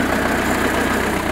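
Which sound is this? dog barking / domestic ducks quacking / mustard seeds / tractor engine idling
tractor engine idling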